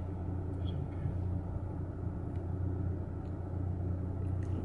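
Low, steady engine and road rumble from inside a car creeping along in stop-and-go Christmas shopping traffic, fairly quiet, with no talk.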